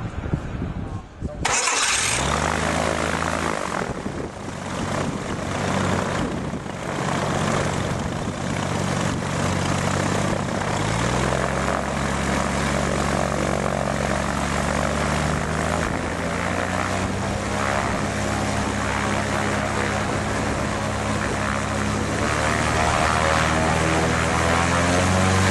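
A propeller aircraft engine cranks and fires after a short pause, then settles into a loud, steady running drone close by that slowly rises in pitch as it warms up and stays constant to the end.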